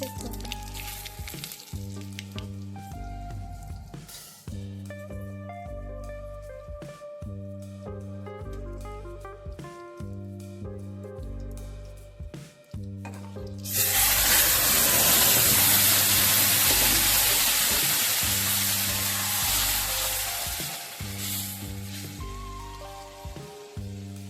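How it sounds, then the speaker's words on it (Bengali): Whole cumin seeds dropped into hot oil as tempering for a village-style fish curry burst into a loud, crackling sizzle partway through, then slowly fade; steady background music plays before and during the sizzle. "তেলটাও ভালো করে গরম হয়ে গেছে আমি ফোড়নের জন্য দিয়ে দিচ্ছি গোটা জিরে"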